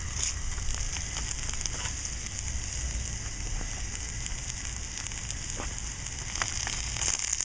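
Food cooks over a wood fire in a homemade hobo stove, covered with a pipe tin. It makes a continuous soft crackle and sizzle, with scattered sharp pops throughout.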